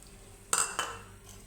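Chopped onions dropped into hot oil in a frying pan give two sharp, close bursts of sizzle, then a fading hiss, with a faint clink of a utensil against the pan.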